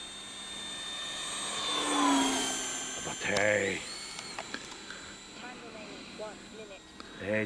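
An E-Flite Viper 70mm EDF RC jet with a 12-blade fan on 6S power flies overhead, its ducted-fan whine rising and sweeping in pitch as it passes near and far, with voices talking in between.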